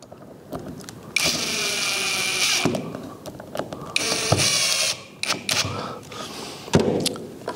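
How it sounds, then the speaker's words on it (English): A power drill drives a screw into a small scrap of plywood as part of building a router keyhole-slot jig. Two sustained whirring bursts with ratcheting and clicking are heard close up, alone, with handling knocks in between. "I'm going to add a little piece of scrap plywood to that line like that, and I'm going to screw that in place."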